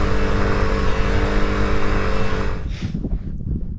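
A Honda CRF300L cruises along a main road at about 25 mph. Its single-cylinder engine drones steadily with harmonic buzz and wind noise up close, then drops off sharply toward the end as the throttle closes.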